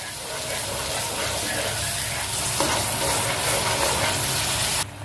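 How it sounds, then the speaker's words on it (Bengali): Onion paste frying in oil with cinnamon, green cardamom and cumin, a loud continuous close sizzle that holds steady throughout before easing slightly at the very end. "পেঁয়াজটাকে ভালো করে ভাজতে হবে।"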